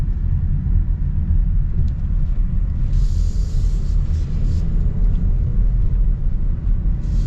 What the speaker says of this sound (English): It was all electric and then it turned on the engine.